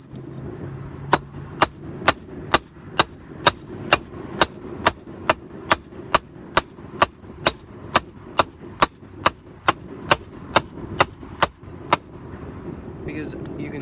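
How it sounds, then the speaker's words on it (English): Sharp metallic hammer strikes on hot steel ring out in a steady, even rhythm, about two per second, loud and close, each blow leaving a bright ringing tone, as a steel bolt is forged into a knife. "Just hit it with the hammer until you like the shape."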